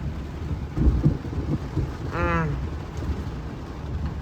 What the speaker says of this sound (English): we're in a severe thunderstorm warning, and I have pulled over